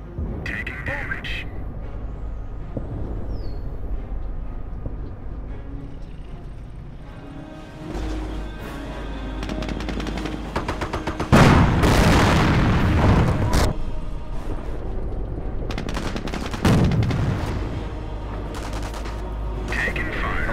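Gunfire and explosions from the Company of Heroes video game roar continuously, with dense rifle and machine-gun bursts and heavy booming blasts, while game unit voices call out over the battle.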